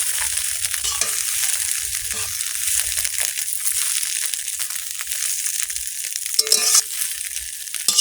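Spices and chilli powder frying in hot oil in a kitchen pan, a steady crackling sizzle with scraping stirs throughout, close and fairly loud, a few sharper clatters near the end.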